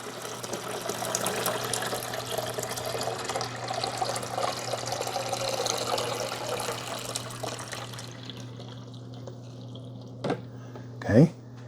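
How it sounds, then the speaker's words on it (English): Water pouring steadily into the reservoir of a Cuisinart DCC-T20 14-cup touchscreen coffee maker, a continuous trickling splash under a low hum, ending with a couple of faint knocks. "We got to pour it where the water goes. Right back here in the water reservoir."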